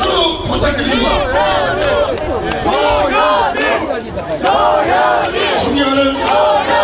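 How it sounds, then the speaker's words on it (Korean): A large crowd at an outdoor Korean local-election campaign rally in Gyeongsan roars, cheers and chants loudly and continuously, close and massed, with voices shouting together. "여러분 다시 한번 응원의 박수 부탁드립니다"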